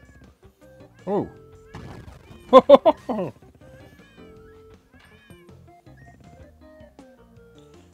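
Cartoonish cat meows in the 8-bit side-scrolling game Crashy Cats: a single meow, then a quick burst of three or four stacked yowls, close and clear over a quiet game backdrop, with a brief spoken exclamation.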